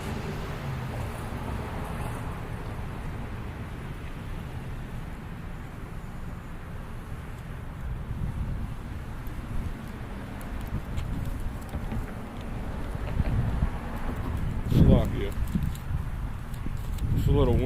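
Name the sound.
wind blowing outdoors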